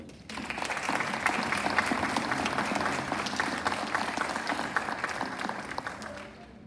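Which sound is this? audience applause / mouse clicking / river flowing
audience applause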